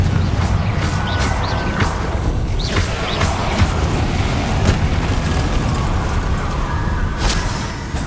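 Confringo fire-blast spell in Hogwarts Legacy gameplay, a dense rumbling blast texture with repeated booming bursts sustained throughout, loud, with no talk.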